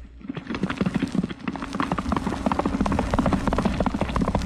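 Horse hooves clip-clopping on the ground, a steady close rhythm of hard knocks that continues throughout at a fairly loud level over a faint background.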